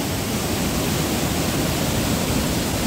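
A waterfall at New Athos in Abkhazia roars in a steady, dense broadband wash close by, filling the whole stretch without pause and with no voices over it.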